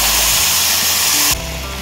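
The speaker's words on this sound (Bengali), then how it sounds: "মাছ ভেজা তেলের মধ্যে ফোড়নে দিয়ে দেবো কালো জিরে" Nigella seeds sizzle in hot oil left from frying fish for a Bengali fish jhal curry, a loud, steady broadband hiss that cuts off abruptly near the end and drops to a quieter simmer.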